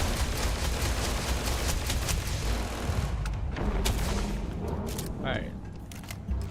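Rapid bursts of gunfire from the sci-fi shooter Starfield during a jailbreak fight, dense and loud through most of the clip alongside someone briefly speaking.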